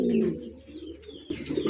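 Racer pigeon cooing close by, a few soft throaty coos with brief pauses, alone and fairly loud.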